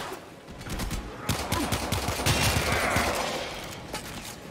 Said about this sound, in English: somebody was shooting at me.